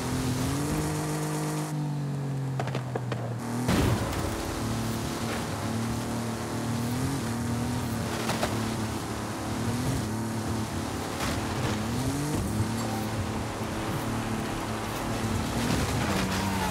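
A Maserati's engine races in Forza Horizon 5, a steady loud drone that briefly drops out early on, then rises and shifts pitch through repeated gear changes and revs.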